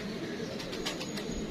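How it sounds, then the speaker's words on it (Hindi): A Sambhal (sheesham) breed pigeon gives a short, soft cooing call close by, heard alone over a steady background hum. "इन कबूतरों को इस ब्रीड को संभल वाले कबूतर के नाम से पहचाना जाता है।"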